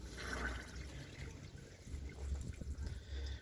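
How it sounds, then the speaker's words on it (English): Water from a garden hose pours into a car radiator during a radiator install on a Honda Civic EP3 Type R, a steady low gushing and trickling outdoors, with wind noise over the microphone. "So yeah, I'm just filling it up full of water"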